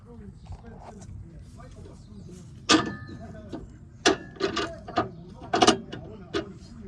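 Metal clicks and ratcheting turns from a tool tightening the bottom nut on a Nissan Qashqai drop link, arriving in several sharp bursts over steady low background noise.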